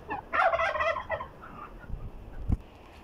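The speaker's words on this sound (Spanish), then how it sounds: "Miren, empezaron a salir todas mis aves." Farmyard poultry, turkeys among them, spill out of their pens in a burst of loud gobbling and clucking, with a brief thump near the end.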